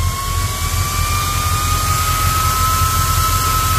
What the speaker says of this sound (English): Yeah, these fans move a ton of air.